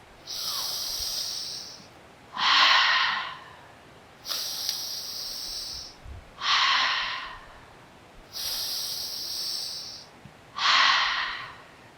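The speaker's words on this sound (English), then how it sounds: "And as soon as you inhale, you exhale. So you eliminate the pause." Connected breathing in a breathwork practice: strong airy inhales and exhales alternate with no pause between them, three full cycles in a slow, even rhythm, close and alone.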